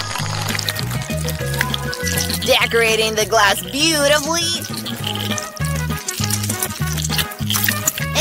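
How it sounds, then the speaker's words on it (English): Chocolate milk is poured into a glass over ice, a gurgling, splashing stream partly buried under loud background music, while a voice speaks over it. "And the next step is to pour in some chocolate milk."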